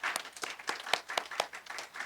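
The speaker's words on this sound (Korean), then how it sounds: "하나님께 영광의 박수 드리겠습니다" A church congregation claps together in a rapid, uneven burst of applause, close and fairly quiet, with no talking over it.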